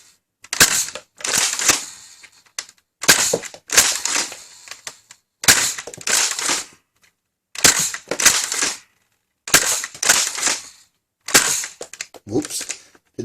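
X-Shot Max Havoc toy blaster firing darts in slow slam fire, sounding as about seven bursts of sharp, rapid clacking shots spaced by short pauses, loud and close with no talking.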